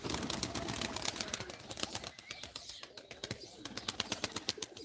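Pigeons at a live pigeon auction coo and flutter close by, with rapid, irregular clicking and tapping bursts throughout and faint background noise.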